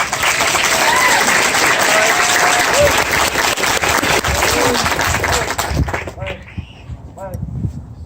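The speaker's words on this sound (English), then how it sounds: "please give a round of applause for all the awardees" A large crowd at an Army armor graduation ceremony at Fort Benning claps loudly and continuously, then the applause thins out toward the end, leaving scattered shouts and voices.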